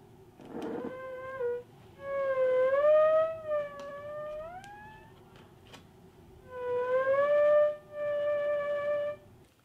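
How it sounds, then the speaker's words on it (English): An eerie, wavering tone from a homemade vacuum tube theremin glides and swoops in pitch with vibrato, playing two long phrases separated by a quiet pause. "well, that is the theremin"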